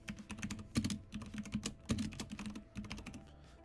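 Fingers tap quickly on a computer keyboard, irregular clusters of soft clicks and a few heavier key strikes at close range, with no voices.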